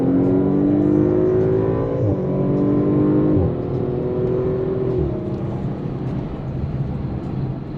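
Porsche GT3 sports car in sport mode accelerating hard, its engine note climbing steadily through the revs with gear changes at a few points, loud and close from inside the cabin.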